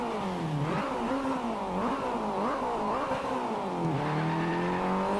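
A car accelerating in the Driveclub racing game, its engine note climbing and dipping through repeated revs, loud and steady throughout without any voices.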